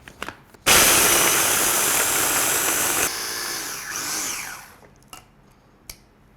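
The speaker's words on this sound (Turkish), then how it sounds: "Bu bisküvileri şimdi doğrayıcıdan bir geçireceğim." A kitchen chopper with twin blades grinds biscuits into sandy crumbs, a loud steady whirring motor that runs in one long burst, changes pitch partway, then winds down with a few brief rattles.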